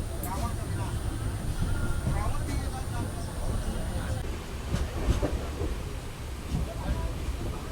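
Inside a sleeper class coach of the 15205 Chitrakoot Express, a steady rumble with clattering wheel noise carries on without pause as the train runs.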